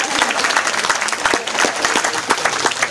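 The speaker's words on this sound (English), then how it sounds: "You give yourself a clap." An audience at a wildlife park show claps together, a dense, steady patter of many hands that stays loud and even throughout.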